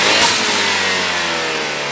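A Ford Focus ST engine revs up and settles, the bay recorded up close with a steady loud tone and harmonics sweeping through the short burst.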